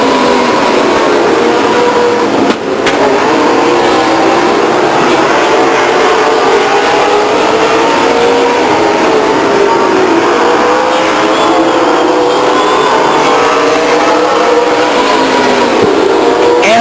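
Stock cars circling an oval speedway in a late-lap race, a loud continuous engine roar with rising and falling passes blending into one another, heard from trackside without talk.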